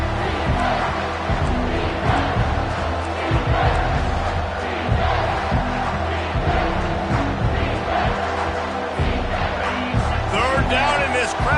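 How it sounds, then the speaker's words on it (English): A college football stadium crowd roars in a loud, sustained wash of cheering that holds steady throughout, dense and continuous with no pauses. "this crowd is tearing the lid off this place"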